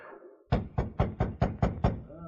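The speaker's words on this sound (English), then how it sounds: "Let's knock." Seven sharp, evenly spaced knocks rap on a wooden door in a Yukon wilderness setting, loud and close, following a brief murmur of voices.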